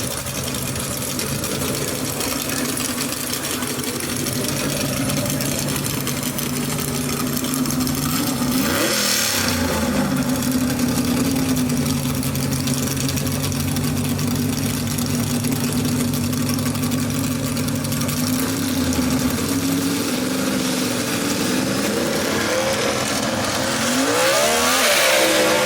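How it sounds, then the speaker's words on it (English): Gasser drag race cars, including a 1958 Chevrolet Del Rey, idle loudly at a South Carolina dragstrip with a lumpy rumble, then rev, the pitch swelling and falling before climbing again near the end. "Oden and Son Racing 58 Del Rey Chevrolet in the Tower Side lane."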